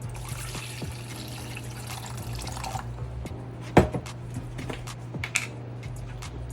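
Water is poured into a bowl of grated ginger and soy sauce, a steady close trickle for a few seconds that tapers off, followed by a sharp clink and a few faint taps.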